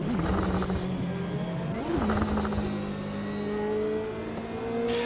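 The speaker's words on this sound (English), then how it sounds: "Do love the noise on the downshifts" A race car engine in the Automobilista 2 sim racing game at Road America revs and drops through downshifts, pitch sweeping up and down in loud, close bursts with a faint tire squeal.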